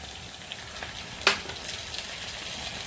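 Cauliflower and vegetables for gobi chilli sauté with sauce in a hot pan, giving a steady close sizzle with one sharp utensil clink partway through and no talking.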